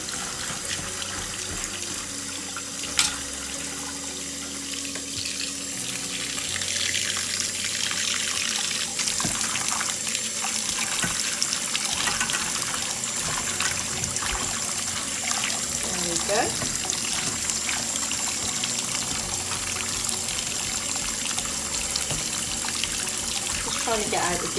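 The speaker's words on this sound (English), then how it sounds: "let's just rinse these off with some water" Tap water runs steadily into a sink as pumpkin seeds are rinsed under it, splashing and trickling continuously, with a voice speaking over it at times.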